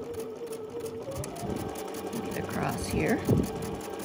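A sewing machine hums steadily in the background during a stitching demonstration, a constant mechanical drone running beneath a woman's nearby speech.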